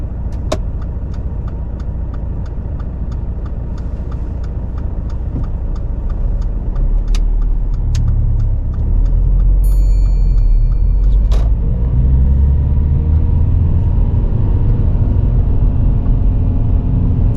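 A car pulls away at the start of a driving test, its engine rumble steady and close from inside the cabin, with a few faint clicks and a brief tone, no talk.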